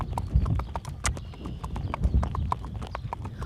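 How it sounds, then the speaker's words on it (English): A gaited horse ridden slightly downhill, hooves clip-clopping in a quick, even rhythm, close and clear, with faint breathing and tack noise around the steady footfalls. "We're going slightly downhill here, so that's very good for a horse to be able to hold a smooth gait."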